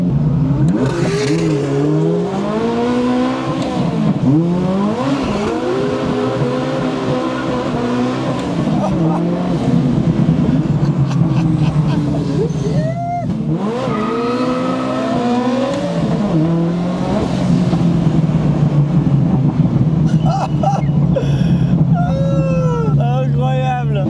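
A sports car fitted with a Novitec exhaust accelerates hard on the Promenade des Anglais in Nice during a Gumball 3000 event, its loud engine note rising and falling in repeated revving pulls, with people talking over it.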